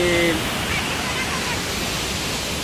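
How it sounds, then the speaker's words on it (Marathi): Steady roaring rush of heavy water released through two gates of Dimbhe Dam, a constant broadband wash with no breaks, with a brief voice at the start. "दोन दरवाजामधून पाणी सोडलेले"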